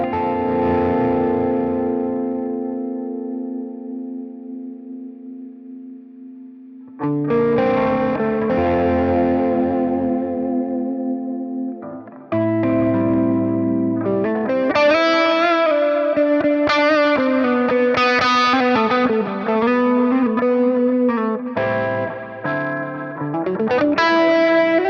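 Electric guitar through a Line 6 Metallurgy amp with modulation and delay. A sustained chord rings out and decays, then heavier distorted chords and single-note phrases play with a wobbling chorus and echo trails, loud and close.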